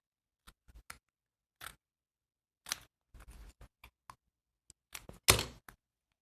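Scissors snip through paper while trimming sheets for mini matchbook notepads, giving quiet, scattered cuts and small handling noises in an otherwise silent room.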